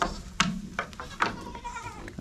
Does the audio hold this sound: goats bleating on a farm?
yes